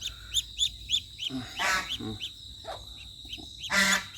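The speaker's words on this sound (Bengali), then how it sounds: "মা হাঁস ডাকতেছে" A mother duck quacks in a few loud, raspy bursts in a rural Jhenaidah, Bangladesh setting, while high, regularly repeated chirps run steadily through the background.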